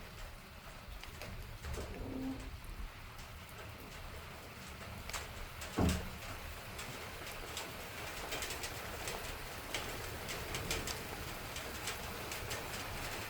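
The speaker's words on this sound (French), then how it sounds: "Ça pleut bien, là." Heavy rain falls in a steady, hissing wash during a thunderstorm in the Aude, with scattered droplet taps throughout and a pigeon cooing softly a couple of times in the background.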